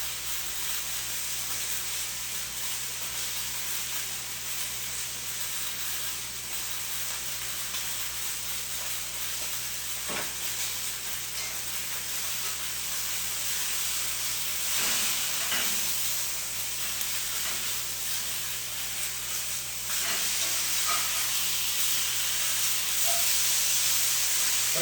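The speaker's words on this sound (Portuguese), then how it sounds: "eu estou selando a carne para finalizar ela no forno, tá? E coloquei umas abobrinhas também para fazer tudo numa panela só" Chicken breast and zucchini searing in a single pan with rosemary give off a steady, broad sizzle and hiss that continues for the whole stretch, with a few faint clinks of utensils along the way.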